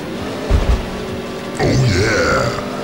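An engine shared by the Camaro and Firebird in the PlayStation racing game Need for Speed: High Stakes growls low, then revs up with a rising, wavering pitch partway through, loud and close.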